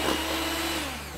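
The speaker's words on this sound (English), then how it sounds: "We'll give a quick whisk to this egg." An electric hand mixer whisks an egg for biscuit dough, giving a steady, close motor whir that holds for the whole short burst with no talk.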